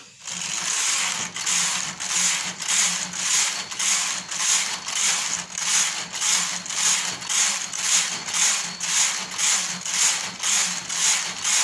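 A knitting machine carriage swept back and forth while knitting a sweater makes a steady rhythmic run of loud, close, rasping clacks, each pass about half a second apart, with no voices.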